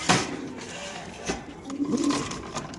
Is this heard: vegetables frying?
no